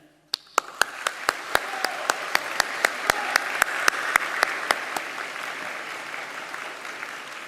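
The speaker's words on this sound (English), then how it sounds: "Graduands, please join me in a round of applause to thank all those" A graduation ceremony audience at an art and design school breaks into sustained applause that swells and holds, punctuated throughout by sharp, evenly spaced beats.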